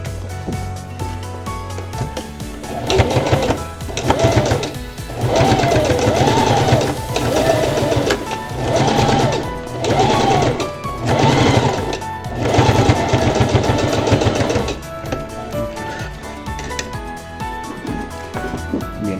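A sewing machine stitching the seam joining a dress front to its lining, running in loud close bursts of rapid mechanical chatter separated by short pauses, with no one talking.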